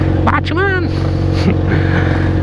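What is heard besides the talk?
motorcycle engine revving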